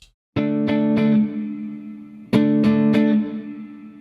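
A clean electric guitar tone with reverb plays two groups of three quick strummed chords, each ringing out and fading into a reverberant tail, with no talking.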